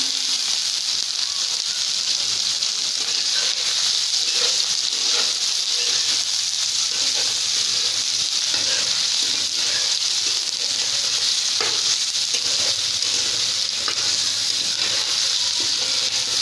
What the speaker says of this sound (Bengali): আলু দিয়ে আমি আগে আলুগুলো ভাজি করছি, সাথে সয়াবিন ভাজি করবো।